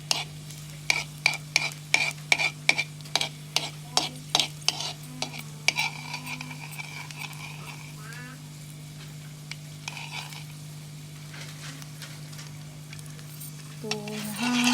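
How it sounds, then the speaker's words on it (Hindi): Garlic sautéing in a pan as a home remedy preparation, with a run of sharp rhythmic spoon-on-pan stirring clacks over a steady low hum, easing into a quieter sizzle and scattered scrapes near the end. "तो अब हम इसको थोड़ा मिक्स होने देंगे। थोड़ा अच्छी तरह इसको हिलाते रहेंगे।"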